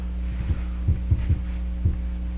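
A computerized quilting machine stitching a quilt gives off a constant low motor hum, punctuated by about five soft, uneven thumps from the needle.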